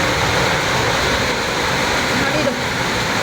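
Heavy night rain drums on a tin sheet roof, a loud, dense, unbroken roar filling the whole three seconds.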